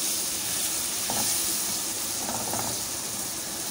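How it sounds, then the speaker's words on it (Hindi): Tomatoes and spices hissing as they fry in a pan for a dhaba-style mixed vegetable sabzi, a steady broadband sizzle with a few faint scraping touches, close and continuous, no talking. "सारे मसाले को जो है टमाटर के साथ भून रही हूँ मैं"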